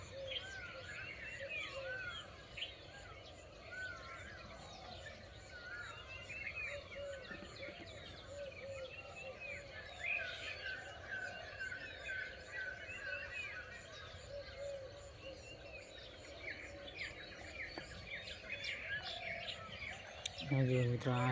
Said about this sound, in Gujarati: સરસ મજાના પક્ષી બોલી રહ્યા છે